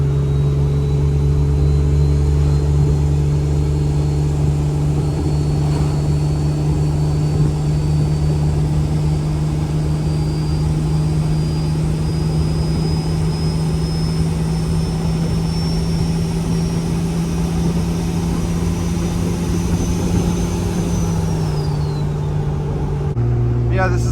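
Lifted Jeep XJ driving along a road: a loud, steady engine drone with road rumble and a slowly rising whine, easing off near the end, heard from inside the cabin.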